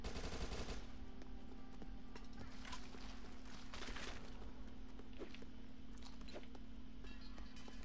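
Submachine gun fire in the zombie shooter Dead Nation, a continuous rattle of rapid shots with a steady hum beneath, fairly quiet and running throughout.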